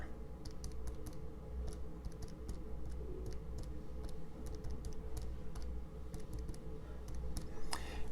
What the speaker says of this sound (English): I'm going to type that into my calculator.